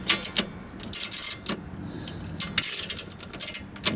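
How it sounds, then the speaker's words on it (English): A ratchet wrench is cranked tight in short back-and-forth strokes, giving rapid clicking bursts of the pawl with small metallic clanks, close and fairly loud, and no talking. "See, then you just crank it"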